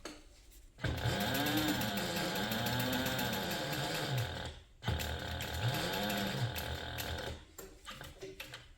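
A home sewing machine stitches a Mr. Heckles handbag with plastic parts, running in two sustained whirring bursts of about four and three seconds with a brief pause between them, then slowing to a few uneven stitches. Close and loud, with no talking.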